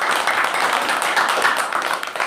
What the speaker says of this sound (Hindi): इसके लिए इस इंडस्ट्री को ताली बजाएं।